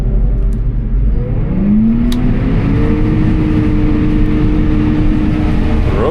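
A combine harvester drives in its slow road gear, giving a loud, constant engine drone and whir that rises steadily in pitch as the machine gains speed, with no talk.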